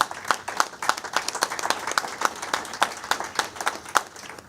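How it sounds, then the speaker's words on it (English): Transit authority board members at an MTA board meeting clapping, a modest group giving fairly sparse, distinct handclaps in an uneven rhythm, close and moderately loud, with no speech over it. "I'm going to ask for applause from this board for that."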